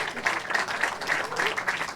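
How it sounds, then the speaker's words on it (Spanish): Audience applause at a centenary tribute event for Domingo Alberto Rangel, a brief dense wash of clapping that holds at a steady level while voices sound in the background. "le damos un aplauso grande al Ministerio de la Cultura, en su titular, el ministro Ernesto Villegas"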